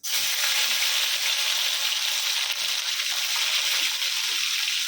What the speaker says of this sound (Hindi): अभी ये बोबिल है ना, धो के लाए हैं, उसको फ्राई करके लेंगे